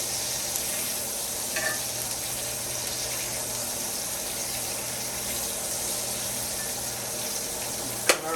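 Asparagus sizzling steadily in a hot cast iron skillet, a constant close frying hiss with a couple of faint clinks and no talking.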